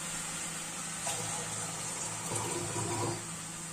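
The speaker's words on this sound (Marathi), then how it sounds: "मिक्स होते तोपर्यंत आपण मुगाची डाळ धुवून घेऊया।" Moong dal is rinsed in water, giving a continuous close splashing and swishing sound for a few seconds.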